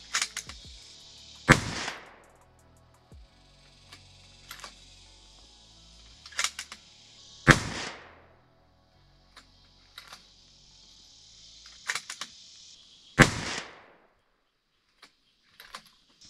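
Three loud rifle shots fired during powder tests with Alpha Brass cases, the first from a cold bore, each a sharp crack with a ringing tail, spaced several seconds apart with quiet between.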